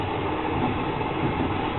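A long-distance train from Kuala Lumpur to Bangkok runs with a steady, even rumble of wheels and carriage noise, heard from inside and continuous throughout.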